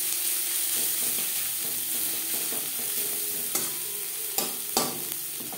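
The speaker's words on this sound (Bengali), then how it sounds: "পেঁয়াজ লালচে করে ভেজে নেব।" Onions fry in oil with salt and turmeric, a steady close sizzle broken near the end by a few sharp spatula scrapes and knocks against the pan; no voices.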